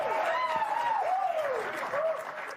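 Applause from a live-stream audience rises in a steady, dense wash, with a sustained whistling or cheering tone sliding over it and some voices mixed in.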